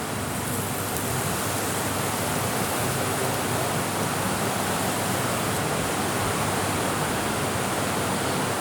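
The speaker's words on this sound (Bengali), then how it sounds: "এর মধ্যে আমি সেই জন্য পরিমাণ মতো পানি দিয়ে দেব।" Water rushes steadily into a pot of cooking pigeon meat in a village kitchen, a loud, continuous broadband wash with no pauses or talking.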